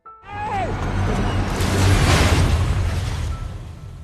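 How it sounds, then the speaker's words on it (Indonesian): A helicopter crashes and explodes in the film Arctic, set in a frozen wilderness. A short descending whine breaks into a loud, sustained roaring blast that swells, then slowly fades over several seconds. "helikopter itu pun terjatuh dan meledak."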